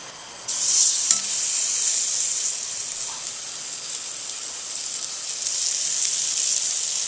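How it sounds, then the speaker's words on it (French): Foie gras searing in a hot pan, a sudden loud sizzle that starts abruptly and holds as a steady bright hiss, close by with no voices. "On va saisir le foie direct."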